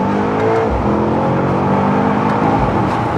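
A Mercedes GT63s AMG engine running after repair, a loud, close, steady rumble with a deep throbbing idle tone that holds throughout.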